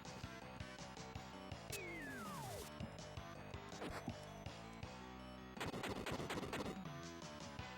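Retro blasts and crashing hits from bombs in Final Fantasy Mystic Quest, a quick burst of sharp impacts with a falling tone, then another cluster of loud bangs over steady game music.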